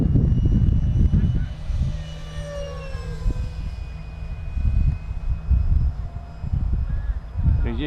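A Hobbyking Sport Jet 70 RC model jet flies overhead with a high, thin whine that rises and falls as it passes, heard over wind rumble while someone talks.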